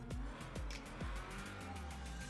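A Vapid Hustler in GTA Online with its stock exhaust revs hard in three quick engine blips, then settles into a rumbling idle.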